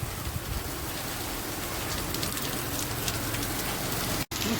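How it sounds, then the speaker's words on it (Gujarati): A sudden shower drums steadily on nearby surfaces in an even, close hiss that carries on throughout, briefly cutting out for an instant near the end, with no talking. "થોડીક ઊભા રહી અચાનક વરસાદ આવ્યો"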